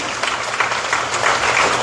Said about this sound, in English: Let's give you all a round of applause for being here tonight